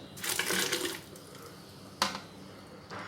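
Water poured into a pot of whole masoor dal cooking with tomato, onion and green chilli paste, heard as a short, moderately loud splashing pour followed by two brief splashes.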